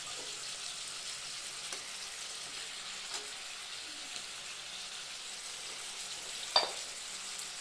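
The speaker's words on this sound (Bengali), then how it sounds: "চিকেনটাকে নাড়াচাড়া করে ভালো করে মিক্স করে দিতে হবে" Chicken pieces for chicken biryani stirred in a pan, a faint steady sizzle with a few soft scraping strokes of a spoon and one sharper clink near the end.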